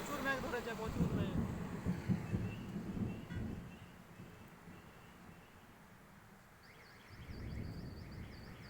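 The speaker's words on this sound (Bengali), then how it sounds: "প্রচুর মেঘ গজরাচ্ছে" Low rumbling thunder rolls during a heavy rainstorm over an empty road, a long deep growl fading through the middle and swelling again near the end, set against wind and rain noise, with a faint voice early on.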